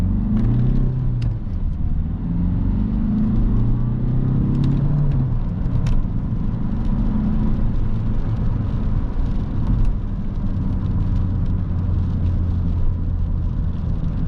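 An Alfa Romeo 159 1.9 JTDm 150 hp diesel drives on city and extra-urban roads, its engine a steady, loud low rumble and drone heard from inside the cabin, with no break throughout.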